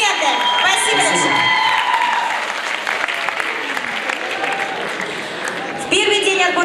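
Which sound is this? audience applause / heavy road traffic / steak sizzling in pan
audience applause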